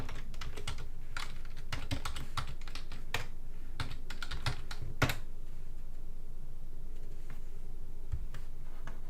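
Someone types a search query on a computer keyboard, with quick irregular bursts of light clicking keys and a few louder taps, close up and steady throughout, no speech.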